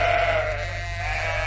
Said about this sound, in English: there are 4 bleating sheep.